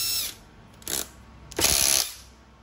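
Cordless drill set to drill mode, spinning up in two short bursts, the second longer, with a whirring motor and a faint ratcheting edge, close by and with no talk.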